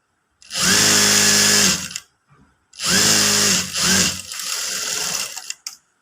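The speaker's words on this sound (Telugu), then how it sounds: "ఇప్పుడు టాప్లో మనం ఒక స్టిచ్ అనేది వేసుకుంటాం" Two bursts of a sewing machine running fast, separated by a short pause, as a stitch is sewn along the top edge of a katori blouse. The motor whirs loud and close, and the second run trails off into lighter handling noise.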